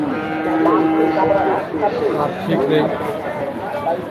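Friesian cattle moo in long, loud, drawn-out calls at a busy cattle market, with crowd chatter and people talking throughout.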